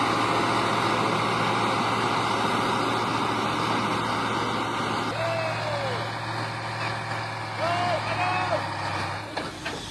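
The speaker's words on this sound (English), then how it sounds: "The tractor engine roared," A tractor engine labours up a steep red dirt mountain road at a construction site, a steady loud rumbling drone with brief squealing tones and clanks near the end, no speech.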